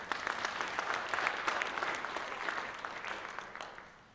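An audience at a school district's State of the Schools presentation breaks into sustained applause, a dense even patter of many hands that holds steady and then fades away near the end.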